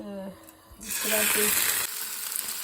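Salmon shallow-frying in a little oil in a home kitchen bursts into a loud, close, broad sizzle partway through, hissing steadily and then easing slightly, with a voice briefly heard before it starts.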